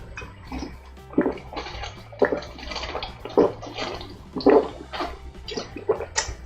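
Fizzy water poured into a glass, heard as a run of uneven splashing, gurgling bursts that swell and fade over several seconds, fairly close and with no talking.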